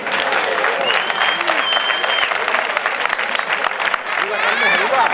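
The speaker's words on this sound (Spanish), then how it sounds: "jugadores del Club Deportivo Veterano Fuente y Sevilla Fútbol Club, un fuerte aplauso" Applause from a crowd greeting veteran C.D. Fuentes and Sevilla F.C. players at a charity football match, steady dense clapping sustained throughout with cheering and voices mixed in.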